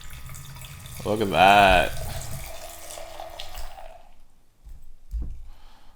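Wine pours through a pocket wine aerator with a close, gurgling splash whose pitch rises as the glass fills, then fades into a few faint trickles; a person speaks briefly over it.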